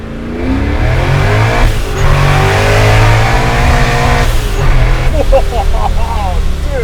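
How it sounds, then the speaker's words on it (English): A 1000 hp procharged Ford F100 roars close by with its tires spinning, a loud sustained engine howl with shifting pitch while excited voices talk over it. "that's the tire spinning the whole time"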